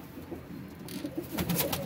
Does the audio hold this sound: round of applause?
no